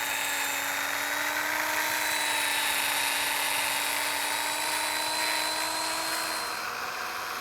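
Power sander smoothing the inside of a wooden yarn bowl spinning on a lathe, a steady loud high whine with a constant droning hum, continuous and close with no pauses.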